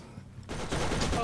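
Turret gunfire in the video game Borderlands, a sudden dense burst of rapid shots that starts partway through and keeps going, loud and close, after a quiet moment.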